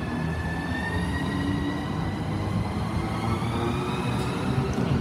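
A Class 395 train stands at Dover Priory station ready to depart for St Pancras International, its steady electric hum and rumble holding loud and continuous, with faint high whines from the traction equipment.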